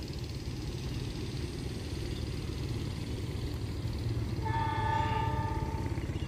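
A long passenger train rumbles past steadily at speed over an unofficial level crossing, then a loud horn sounds near the end, its tones layered over the continuous rolling noise.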